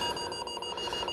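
The timeout timer on a President Walker II FCC CB radio sounds a steady, fairly faint electronic alarm tone with a pulsing beep pattern, heard alone without speech.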